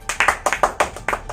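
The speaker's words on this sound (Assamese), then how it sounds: "তালি" A short burst of sharp hand claps in an Assamese comedic skit, about eight close, crisp slaps in an uneven rhythm with no talking.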